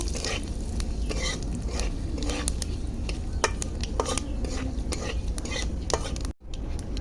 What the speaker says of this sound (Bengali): দুটো শুকনো লঙ্কা গোটা জিরে তেজপাতা ভালো করে ভেজে নেব